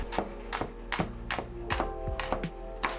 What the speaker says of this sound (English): you just want to slice the shallots